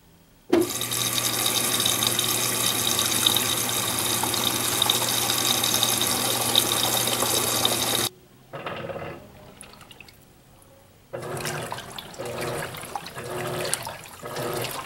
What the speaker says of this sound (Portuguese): Molho mais agitação curto para ela encher de água